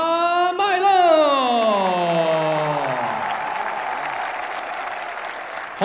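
Crowd applause at a flyweight cage-fighting event, a steady wash of clapping lying beneath a long, drawn-out announcer's voice that glides downward in pitch across most of the stretch.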